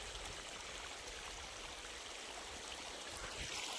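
A continuous rushing flow of pumped irrigation water, steady and fairly soft, running through a channel in a millet field.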